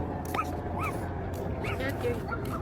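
A small dog whimpers and yips in high, thin cries over a steady background hum, with voices murmuring in the distance.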